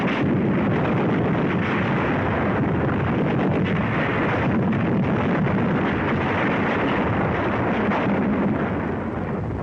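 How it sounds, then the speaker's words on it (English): Dense, continuous gunfire and explosive bursts on a 1943 WWII North African battlefield, loud and unbroken throughout with no clear gaps, a rumbling barrage blending machine gun fire and heavier blasts. "Enemy snipers machine gun our infantry positions."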